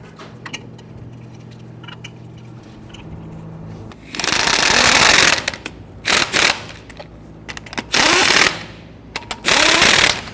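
Power impact tool snugging lug nuts on a 2010–2019 Ford Taurus during strut and spring replacement, delivered in several loud rattling bursts of a second or so each, separated by quieter gaps.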